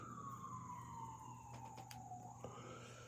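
A steady emergency siren tone slowly glides lower, moderately distant, with a few faint clicks and a constant low background hum.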